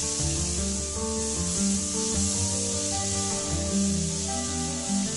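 Tomatoes with green chilies sizzle and fry in a pan for a chicken masala, giving a steady hiss with soft scraping from stirring, fairly close and continuous.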